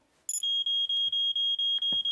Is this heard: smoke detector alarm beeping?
yes